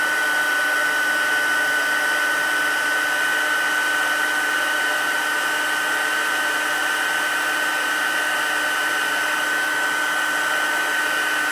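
A heat tool melting embossing powder on a stamped card gives a loud, steady, continuous whirring blow that runs unbroken throughout.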